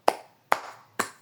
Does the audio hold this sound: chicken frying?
no